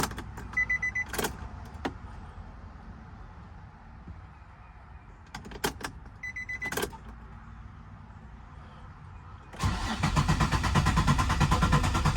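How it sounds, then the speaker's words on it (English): The fuel pump of a drift car being primed: a few sharp clicks and clacks with quiet gaps, then a steady, loud whirring drone that runs without a break to the end. "Let's prime fuel pump a few times."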